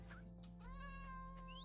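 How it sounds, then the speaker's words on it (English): Minecraft cat mob meowing in a single drawn-out, clear meow with a rising tone at the end, heard alone over a steady low hum. "Here's the cats."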